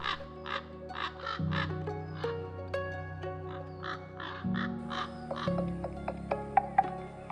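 Ravens call in Yellowstone in winter, a series of repeated hoarse caws and throaty croaks at a moderate distance, some in quick bursts, with a low steady hum and occasional sharp clicks beneath.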